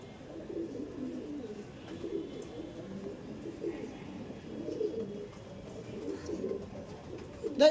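Chotial pigeons coo in soft, repeated low murmurs, close by and fairly quiet, with a few faint background sounds between the calls.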